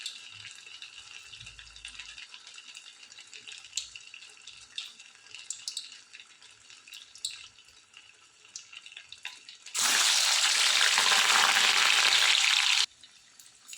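Leftover rice vadas fry in hot oil on a low flame, faint crackles and pops at first, then a loud, steady sizzle for a few seconds before it drops back quiet.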